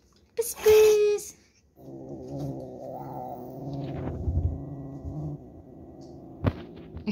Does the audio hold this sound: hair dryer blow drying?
no